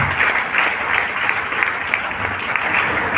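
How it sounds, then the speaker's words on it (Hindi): Steady applause from an audience at a health awareness program, dense clapping sustained evenly throughout with no speech over it. "मैं चाहूँगा एक बार बढ़िया वाली ताली बजा दो।"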